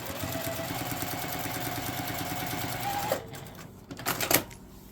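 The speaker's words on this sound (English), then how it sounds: "we're going to sew them together using a 1/4 inch seam" A sewing machine runs a quarter-inch seam through quilt scraps, a rapid, even stitching chatter for about three seconds before it stops, followed by a few soft handling clicks and rustles.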